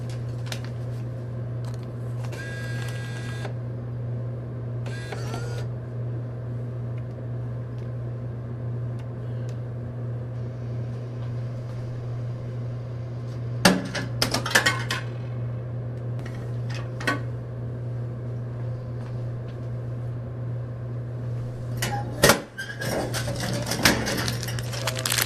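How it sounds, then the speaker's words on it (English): Soda and candy vending machines give off a steady low electrical hum with faint background activity, a few brief clicks and clunks breaking in near the middle and end. "I went over to the soda and candy machines."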